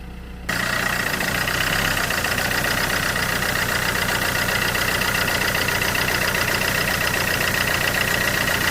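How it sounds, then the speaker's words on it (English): A Vauxhall Corsa D 1.3 CDTi diesel with an injector fault idles close up, giving a steady, dense mechanical clatter after a brief quieter moment at the start. The engine drones evenly and loudly throughout, with no speech. "the engine is running actually quite smooth compared with when it was dropped here."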